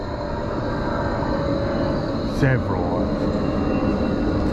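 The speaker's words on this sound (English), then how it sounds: "That's a big plane taking off." A large plane taking off along a flight path passes overhead as a broad, steady roar under a bike trip's ambient noise, with a brief voice cutting in midway.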